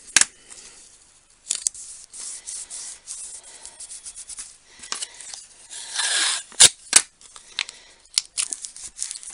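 Low-tack post-it tape being handled to hold down an embossing stencil: close, intermittent rubbing, crinkling and tearing rustles in short bursts, with a few sharp ticks near the middle.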